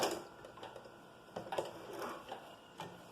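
A sewing machine stitching in short bursts with pauses, backstitching at the end of a seam on an A-line skirt, moderately quiet, no talk.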